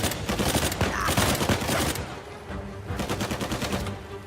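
Uncharted 4 firefight on crushing difficulty, with close automatic gunfire rattling in rapid bursts that ease briefly, then a second volley of steady shots from behind a ridge.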